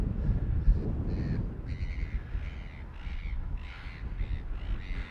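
Magpies give repeated harsh, chattering caws at a slope-soaring site where a model Messerschmitt Bf 110 warbird glider is flying, a steady series of calls over constant wind noise.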